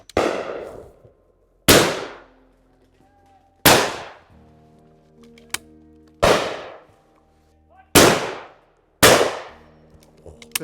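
Six shotgun shots fired at driven birds boom out one at a time, each sharp blast followed by a short decaying echo, spaced about two seconds apart outdoors.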